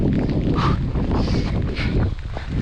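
Loud headwind with rain buffets the microphone in a continuous low roar, with rustling gusts rising and falling.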